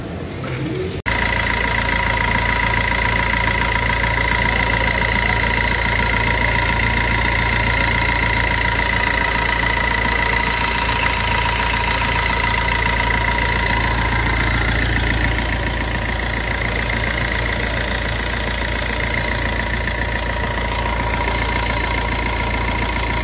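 A car engine idles steadily with an abnormal knocking, rattling noise running through it, loud and continuous with no speech.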